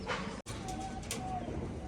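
Giribaz pigeons in a farm loft give soft, low cooing, a continuous murmur of calls close by with no voices over it.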